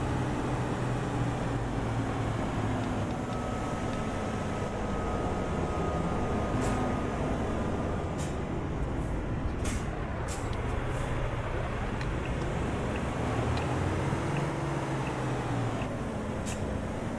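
A MAN TGX truck engine with a 540 hp motor in Euro Truck Simulator 2 drones steadily and rough, a constant low rumble with slowly shifting pitch, moderate and continuous, no talk.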